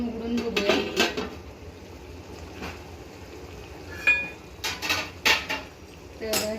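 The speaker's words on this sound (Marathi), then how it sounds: "तर आता आपण झाकण उघडून बघूया." Metal lid lifted off a cooking pot on a low-flame stove during preparation of a spicy sandge curry, giving a few sharp clinks and clanks close by among soft kitchen background noise.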